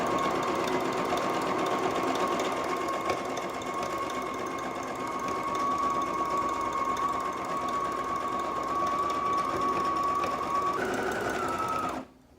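A domestic sewing machine runs in one steady, unbroken whir while stitching a decorative border onto a towel. The motor pitch rises slightly near the end before it stops abruptly.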